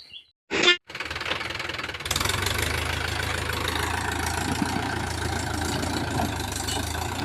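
A farm tractor's engine, started after standing idle for many days, runs at a steady idle with a low rumble and a rapid knocking beat, preceded by a brief sharp mechanical noise.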